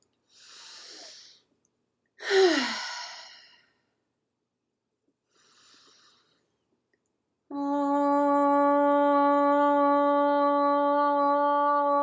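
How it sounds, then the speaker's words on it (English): A single long exhaled cleansing breath during a yoga and meditation session, a soft airy rush falling away, followed by a faint breath and then a sustained, steady tone held to the end. "First, a cleansing breath."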